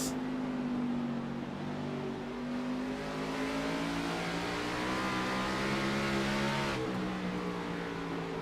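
A race car engine at the Pensacola 150 drones steadily at high revs, its pitch holding and rising slightly before shifting down near the end, loud and close throughout.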